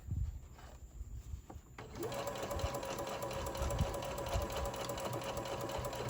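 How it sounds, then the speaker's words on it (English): A home sewing machine stitches fabric for a Santa sack, starting after about two seconds and then running in a steady, continuous whir to the end, fairly close and loud, with light handling noise before it starts. "I'm going to go ahead and sew"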